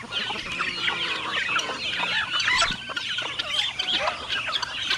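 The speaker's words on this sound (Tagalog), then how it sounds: "May mga manok pa tayo mga kaprobinsya." Several chickens cluck continuously in a coop beside a pig pen, overlapping calls close by and fairly loud, with no voices over them.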